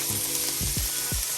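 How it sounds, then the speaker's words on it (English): Rice fries in melted butter in a pan, sizzling steadily and close, with a few scraping stirs cutting through the crackle. "I'm gonna go ahead and add my rice."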